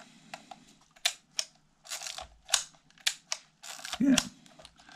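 An SLR film camera's shutter fires at its top speed, giving quick mechanical clicks among handling clatter close by, with a snap near the end.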